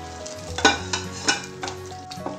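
Rava pongal with boiled moong dal being stirred in a pan on the stove, giving soft scraping stir strokes with a few sharper spoon knocks over a steady low cooking hiss.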